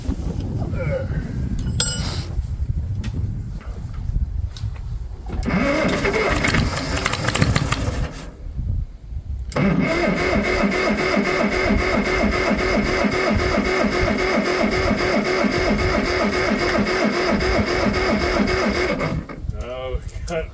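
A 1956 Caterpillar D9 bulldozer engine cranking and trying to start, a loud rough mechanical churning that sputters, drops out briefly, then resumes as a steady rapid clattering drone, with people talking over it.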